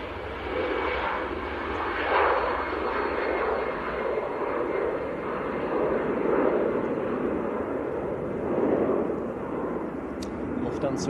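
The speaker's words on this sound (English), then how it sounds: "There's a Lufthansa on the roll" Lufthansa airliner on its takeoff roll at Manchester Airport, outbound to Frankfurt, in freezing weather: a steady, rumbling jet roar that swells and eases in waves, with talk over it.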